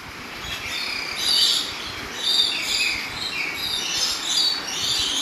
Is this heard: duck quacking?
no